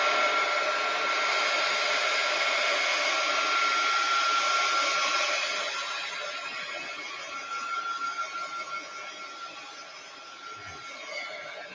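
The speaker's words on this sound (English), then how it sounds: "I'm just going to heat gun them to dry them out." A heat gun blows steadily as it dries stamped tissue paper, a continuous close whooshing roar that eases a little partway through and carries on without talk.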